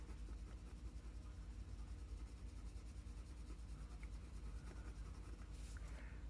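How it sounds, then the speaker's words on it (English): Crayola Supertips marker coloring on paper, a soft continuous scratchy rubbing of felt tip over the sheet, faint and close, running steadily throughout with no talking. "I'm just putting some color on the paper."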